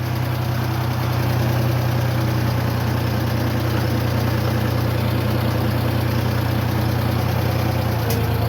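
A Ford 3000 tractor engine runs steadily at close range with a loud, constant low drone and vibration. A short tick sounds near the end.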